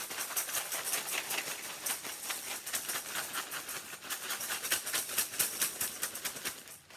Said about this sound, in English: take your egg, and you can place that in the bag too, seal it up again, and go ahead and shake that right in there